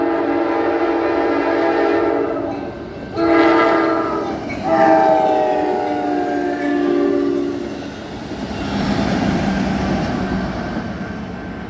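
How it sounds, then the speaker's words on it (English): A southbound Amtrak Cascades passenger train passes through Castle Rock, Washington, sounding its horn in several loud blasts over the rumble of wheels on rails, then rolling on as the horn fades. "Amtrak Cascade train."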